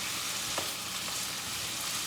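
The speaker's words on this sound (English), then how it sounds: "frying and sauteing olive oil" Olive oil frying in a pan for beef stew, a dense, steady sizzle with crackling hiss close up and no voices.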